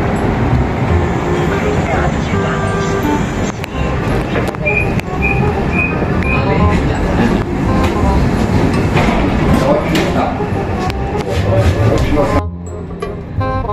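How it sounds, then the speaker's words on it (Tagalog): Zagreb tram number 11 running on rails, a loud rumble of wheels with rattling, clicks and brief squeals, ending abruptly as it nears. "Ito na mga katagay yung inaantay natin tram number 11."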